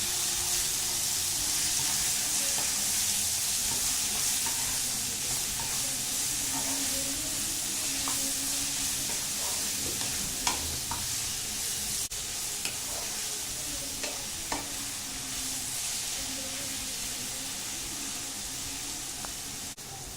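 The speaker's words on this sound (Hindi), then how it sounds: "धनिया की डंडी, सबको मिक्स कर ले रहे हैं" Spices, cumin seeds and coriander stems being stirred in a frying pan with onion and tomato for egg curry, a constant hissing sizzle with sporadic spoon scrapes and taps.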